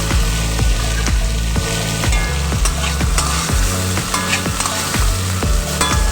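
Carrot, gourd and peas frying together in a pan, a loud constant sizzle with rhythmic scraping strokes of a spatula stirring the vegetables, close to the listener, with no speech.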